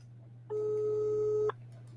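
A telephone line tone sounds once for about one second as an outgoing call connects on a talk radio broadcast, with a steady electrical hum under it.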